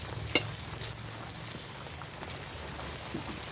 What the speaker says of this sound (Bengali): এবার দেবো আমি তেল অল্প করে আমি অল্প তেলেতেই ভাজবো